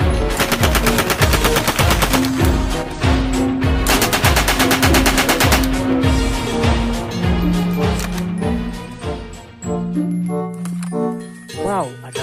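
Rapid gunfire bursts in a vehicle-themed toy or animated scene, repeated rhythmic volleys that stay loud and close throughout, mixed with music-like tones and a voice talking over them.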